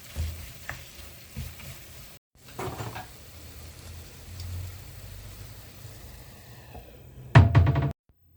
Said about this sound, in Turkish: Sucuklar da piştikten sonra domatesi koyuyoruz. Domates erinceye kadar kavrulacak.